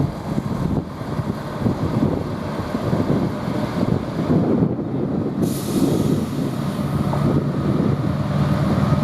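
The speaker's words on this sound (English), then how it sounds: "also arriving in is 68014. with the opposite service to Birmingham Moor Street." Class 68 diesel locomotive 68014 arrives at Banbury station on a windy day, giving a steady low rumble of engine and wheels with gusty wind buffeting the microphone and a brief hiss partway through.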